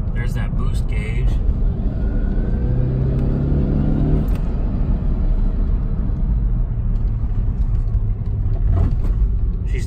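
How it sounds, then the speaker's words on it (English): A 2006 Saab 9-5 Turbo engine spooling up on the road, a steady loud rumble with a rising whine under the drone, and someone talking over the cabin noise. "the turbo sure is spooling up."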